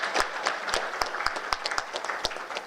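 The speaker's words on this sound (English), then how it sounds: "Let's keep applause." Applause from the audience at a Sri Lankan technical event, sustained and moderately loud, with scattered sharp individual claps standing out from the dense clapping throughout.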